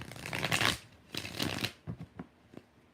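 A deck of tarot cards is shuffled by hand up close: two long riffling bursts followed by a few short soft taps as the cards settle, with nobody speaking.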